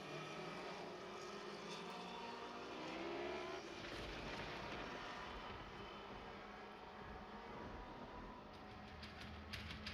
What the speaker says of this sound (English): Northern Lightning Sprints use a 1000cc stock motorcycle engine.